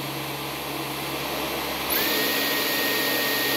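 Dyson V11 cordless vacuum cleaner running steadily, then switching power mode partway through, with the motor's whine jumping sharply up in pitch and loudness and staying higher, no talking.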